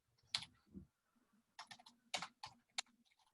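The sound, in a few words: typing on a computer keyboard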